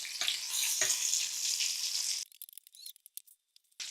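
Carnivore beef meatballs searing in a pan with butter, a loud hissing sizzle with a few thumps as they are turned, then the sizzle cuts out to quiet scattered crackles and taps.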